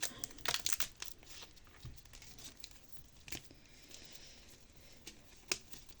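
Paper budget envelopes being picked up and handled, soft crinkles and light rustling taps, faint and close, with no talking.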